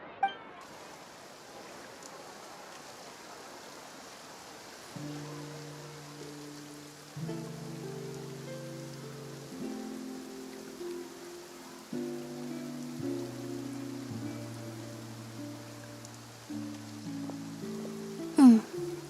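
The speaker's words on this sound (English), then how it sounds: "Looks like rain." Rainfall in the Fontaine region of the video game Genshin Impact: a soft, continuous hiss of rain running throughout beneath gentle, layered background music notes.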